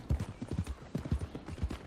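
Hooves of a horse in Red Dead Redemption 2 clip-clopping at a steady walking pace, close and distinct rhythmic thuds repeating evenly with no talking.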